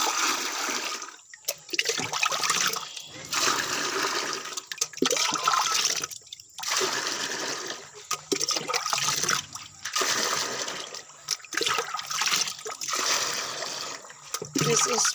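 Dirty rainwater from a roof pours and splashes steadily into a container outdoors, a loud continuous gushing stream with brief breaks.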